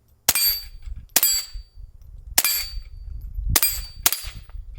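Suppressed .22 rifle fired five times at uneven intervals, each shot a sharp, close, metallic crack with a short ringing tail, over a low background rumble.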